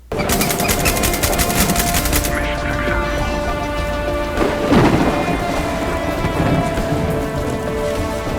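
Steady heavy rain and rumbling thunder from a night storm over a tropical jungle island in the PC game Black One Blood Brothers. The downpour hisses throughout, and a louder thunder crack swells near the middle.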